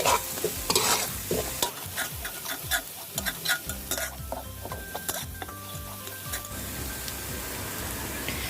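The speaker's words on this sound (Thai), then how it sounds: "ให้ผัดพริกกระเทียมค่ะให้หอมก่อนนะคะ" Chili and garlic stir-frying in a pan for a Thai mussel basil stir-fry, a steady loud sizzle with repeated scraping and clinking of a utensil against the pan, then background musical tones.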